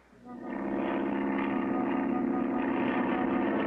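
A steady engine roar swells up and then holds at a constant drone, like a propeller plane running nearby, in a 1959-60 animated cartoon.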